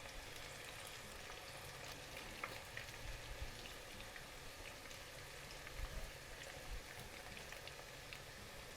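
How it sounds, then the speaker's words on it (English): Vegetarian party appetizers fry in a pan of hot oil, giving a steady dense sizzle with small crackles throughout, close and continuous with no talking. "So this is the second round that's cooking, and while this is frying, which will take 5 minutes"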